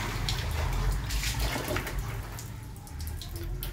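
RO-purified water is drawn from a storage tank for servicing a 1000 LPH RO water plant, a steady faint splashing flow running without a break.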